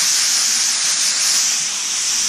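A loud, steady hiss of a spray nozzle releasing a fine, continuous stream of flocking onto an artificial Christmas tree, close and unbroken for a couple of seconds.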